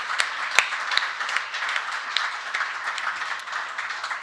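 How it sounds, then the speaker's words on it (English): Applause from an audience at a national historical park community service awards ceremony, a steady even patter of many hands clapping at moderate volume for about four seconds, with no talking. "let's give a round of applause to them and our volunteers"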